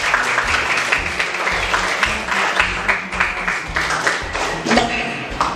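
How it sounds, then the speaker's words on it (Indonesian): Students in a classroom applaud together in a loud, close burst of clapping with uneven thumps and taps, while a few voices murmur underneath. "tepuk tangan buat kita semua"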